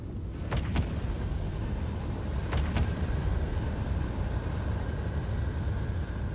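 Spaceship engines running in a cargo-hauling game set in the Pyro system: a steady, broad low rumble with a faint sustained whine, holding evenly throughout, broken by two pairs of brief sharp clicks early on.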